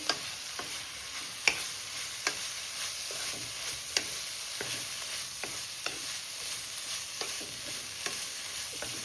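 Beans, carrot and cabbage being stir-fried together in an iron kadai for chicken fried rice, a soft continuous sizzle with sharp metallic spatula taps against the pan every second or so.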